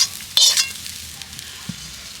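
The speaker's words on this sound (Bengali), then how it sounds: "ঠিক এরকমভাবে ভেজে নিয়েছি খুব বেশি কড়া করে ভাজার দরকার নেই" Mushrooms frying in oil in a wok give a brief burst of sizzling and stirring early on, then settle into a faint, low background, with no one talking.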